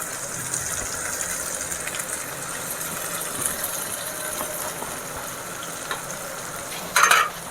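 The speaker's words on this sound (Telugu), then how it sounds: "సో ఇప్పుడు మనము ఈ పాలక్ పచ్చిమిరపకాయలు కూడా బాగా కలిపేస్తాము ఈ మసాలా ఐటెంతో." Spinach and green chili paste are stirred into a simmering masala of egg and spinach curry, a soft continuous sizzle with light scraping, and a brief louder clatter near the end.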